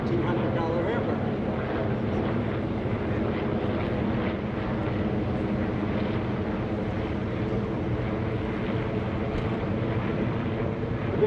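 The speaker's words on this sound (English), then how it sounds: "The Yaks have been joined by a big Douglas Skyraider" A warbird formation of Yaks joined by a Douglas Skyraider drones overhead at an airshow, a dense, continuous low engine roar with wind buffeting on the microphone and no distinct breaks.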